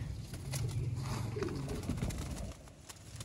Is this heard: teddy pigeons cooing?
yes